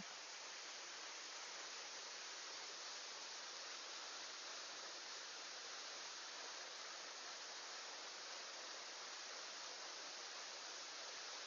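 Samrong Kiat waterfall in Khun Han, Sisaket, Thailand, its water pouring in a steady, even rush of broadband noise from start to finish with no voices or breaks.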